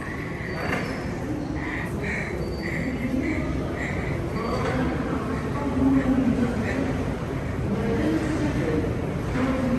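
An Almaty metro train at Abai station, an underground stop, gives a steady rumbling roar that fills the whole stretch, with faint voices in the background.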